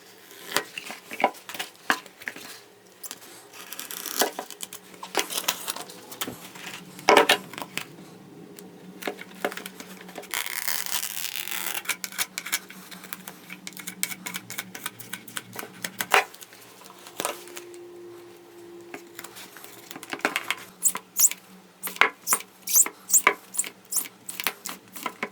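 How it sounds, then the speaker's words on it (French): Foam padding for the seat of a 1980s Dany Cross 3000 moped being cut by hand, with intermittent close-up scraping, clicks and rustling spread across the clip. "Je vais couper à cet endroit-là."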